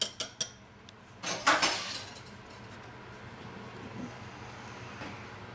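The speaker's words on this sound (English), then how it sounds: "Mix it up until it's nice and smooth" Lime barbecue sauce being stirred and mixed in a bowl for pulled pork, with a few bright clinks of a utensil against the bowl early on, then a soft, quiet scraping bed with faint taps.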